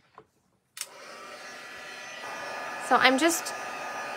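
A hair dryer blows steadily on a handmade greeting card, a loud continuous whoosh starting abruptly after a brief word, with a voice talking over it partway through.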